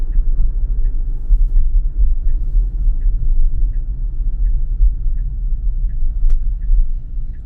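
Interior road rumble of a Tesla driving itself through a right-hand turn on FSD Beta 10.5: a steady low drone with a soft, regular ticking, likely the turn signal, running throughout.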